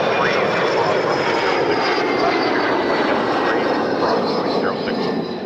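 Embraer E175 jet airliner at Toronto Pearson airport, a steady loud engine roar with a whining tone on top, continuous and close throughout.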